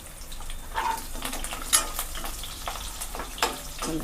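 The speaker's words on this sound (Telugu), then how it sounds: "చిటపటలు ఆడుతున్నాయి." Spices and green chillies crackling and popping in hot oil, with scattered sharp snaps over a quiet sizzle and occasional stirring sounds.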